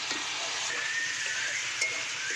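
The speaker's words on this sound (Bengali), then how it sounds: "এখন রাত কিন্তু রান্না হচ্ছে সয়াবিন আলু বেগুন আর কলা ভাজি" Soybean chunks, potato and eggplant fry in hot oil, a constant close sizzle and hiss with no voices.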